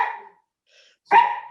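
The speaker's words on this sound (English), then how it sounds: "sorry about the dog barking" A dog barks twice nearby, one bark fading out at the start and a louder one following after a short pause, with no talking over them.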